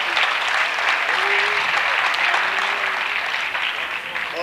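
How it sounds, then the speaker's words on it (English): Steady applause from a crowd at a high school basketball game, sustained clapping throughout with a few faint whoops or voices mixed in. "How about a round of applause?"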